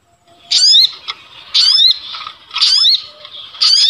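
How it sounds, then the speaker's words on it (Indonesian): Repeated bursts of shrill, chirping bird calls played from an MP3 recording to lure small birds, in a steady rhythm about one per second, loud and clear against a quiet background. "menggunakan MP3 suara burung ribut ya teman-teman"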